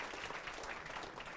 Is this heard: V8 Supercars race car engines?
no